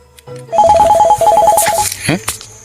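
A telephone rings with a repeated electronic trill in two bursts, loud and close, as people talk over it in a Sylheti-language village drama.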